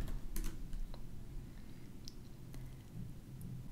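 Computer keyboard typing a command into a terminal, a short run of light, quick key taps, faint and close against a steady background hiss, no talking.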